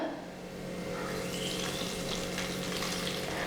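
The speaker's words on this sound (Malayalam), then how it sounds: "അപ്പം നമ്മുടെ വറുത്തത് ഞാൻ കറിയിലോട്ട് ചേർത്ത് കൊടുക്കുകയാണ്." Fried coconut tempering poured into a simmering Kerala-style fish and raw mango curry made with murrel fish, giving a loud, steady close sizzle and crackle with no talking.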